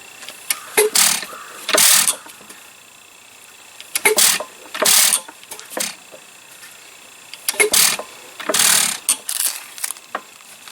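An Associated United hit and miss engine being hand-cranked for a start: repeated bursts of mechanical clatter and ratcheting in spaced groups, each ending with a sharp puff, fairly close and without talk.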